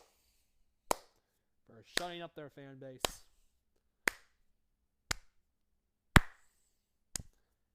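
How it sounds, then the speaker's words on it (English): Single sharp hand claps ring out slowly, about one per second, six in all, crisp and close, with a short burst of a man's speech between the first claps. "Can we all get a clap for Texas Tech"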